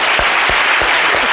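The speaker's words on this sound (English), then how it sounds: "I'd like to propose that we clap one more" A crowd in a lecture hall claps loudly and continuously, with a thick wash of many hands filling the brief moment.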